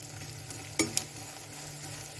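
Gond (edible gum) frying in a pan for panjiri, a soft steady sizzle under a couple of sharp stirring clinks and a louder scrape at the end, with no talking.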